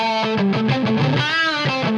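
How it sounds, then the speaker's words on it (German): Electric guitar through a Mooer Green Mile overdrive pedal in hot mode, stacked on a distorted amp: a loud, dense, saturated riff of repeated chords and sustained notes, continuous and without voices. "Schalte jetzt das Green Mile im Hot-Mode dazu."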